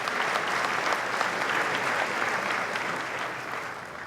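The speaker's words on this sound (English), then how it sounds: "a round of applause for these critically important public partners" Chamber of commerce annual dinner crowd applauding public partners, loud sustained clapping from a large room that tapers slightly toward the end.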